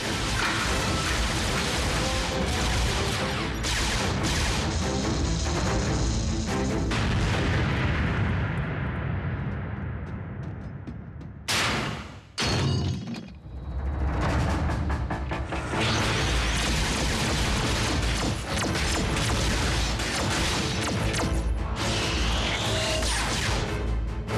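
Loud, continuous barrage of booming explosions and blasts from an animated Transformers Prime battle, dense and chaotic, with a brief near-silent gap midway before the detonations resume.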